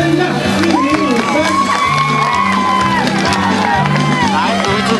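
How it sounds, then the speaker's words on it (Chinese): A school crowd at a high jump event cheers and claps loudly and continuously for a lone athlete attempting 1.53 metres, with a voice speaking over the din. "然后给他掌声一下"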